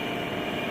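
Toyota Vios engine idling with a misfire, a steady close rumble with a rough, uneven pulse throughout and no talking.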